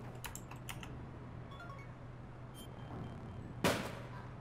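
Quick keyboard clicks while playing APB: Reloaded, a brief cluster of typing near the start over a steady low hum, then a sharp loud bang near the end.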